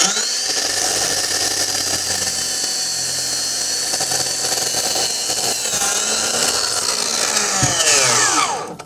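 A circular saw blade plunges straight down through a deck board, giving a loud, steady, high-pitched whine for several seconds. The pitch sags and rises near the end as the cut finishes and the blade spins down.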